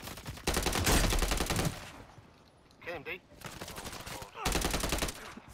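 Bursts of rapid automatic gunfire in a shooter video game, two long volleys with a brief pop between them, heard under players talking over voice chat.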